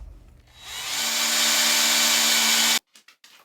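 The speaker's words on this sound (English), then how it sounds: "drilling out the plug end, which allows us to place bait in the hole" A power drill drills out the plug end of a live trap, spinning up and whirring at a steady high pitch for a couple of seconds, then cuts off, followed by a few short knocks.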